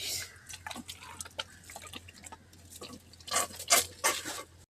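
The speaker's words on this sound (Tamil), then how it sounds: "தண்ணி எப்படி இதுலையே கொட்டுது." Water splashes and patters in irregular bursts onto leaves and soil, growing louder toward the end, with a low steady hum underneath.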